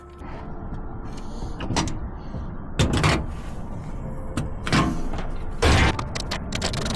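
Truck tail lift on an HX60 being lowered outdoors: a steady mechanical hum with several louder clunks and rattles spread across the run, close by, with no talking.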